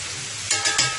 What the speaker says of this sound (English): My steak is cooking up nicely there.